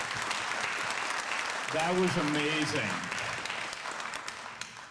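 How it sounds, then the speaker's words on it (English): A city council meeting audience applauds after a rendition of the Star Spangled Banner, with steady clapping throughout and a voice speaking over it in the middle. "Let's give her another round of applause."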